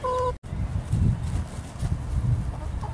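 Leghorn chickens in a backyard flock cluck and murmur close by in low, uneven bursts, with a brief tonal call at the very start.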